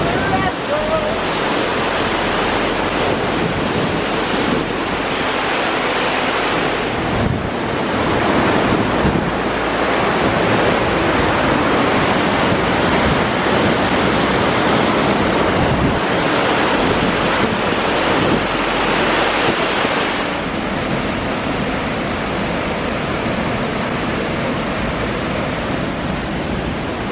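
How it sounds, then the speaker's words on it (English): Reuben Falls pours in a loud, constant roar of rushing water and mist, dense and close, with wind buffeting the microphone throughout. "it's a really good waterfall"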